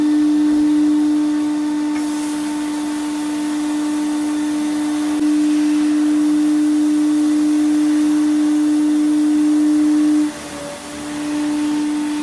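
Abrasive sandblasting inside a Nordberg NS9 front-loading sandblasting cabinet: a steady loud hiss and roar with a constant drone, holding evenly for about ten seconds before dipping and resuming.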